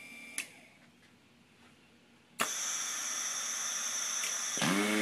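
Electric motor in an automated factory machine starts up and hums steadily at close range, driving a carriage for several seconds, with a brief click before it and machinery noise rising again at the end.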